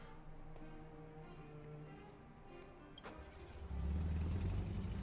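A car engine starting in the video game Honkai: Star Rail: a brief crank, then a loud steady idle rumble kicking in near the end, following a quiet stretch of low hum.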